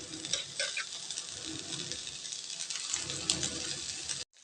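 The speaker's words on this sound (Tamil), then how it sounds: "இப்போது சாதத்தை இதில் சேர்த்து கிளறலாங்க." Cooked rice is stirred into a frying pan with carrot, a soft continuous sizzle with scraping and scratchy spoon movements, close and quiet, cut off abruptly just before the end.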